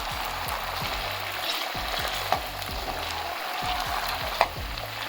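Potatoes and chorizo fry in a pan with a steady sizzle while a utensil stirs and scrapes in repeated strokes, with two sharper knocks against the pan near the middle and end, and no talking.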